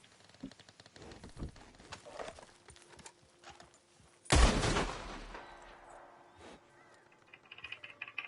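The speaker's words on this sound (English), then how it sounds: "Yeah, that's an elephant rifle." A single distant elephant rifle shot booms out alone, a sharp broadband crack followed by a rolling echo that fades over about two seconds, with faint outdoor ambience and small knocks around it.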